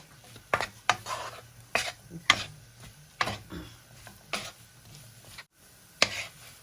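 Shrimp fried rice being stir-fried in a pan, heard as a series of sharp spatula scrapes and knocks against the pan in an irregular rhythm over a faint sizzle, close and clear.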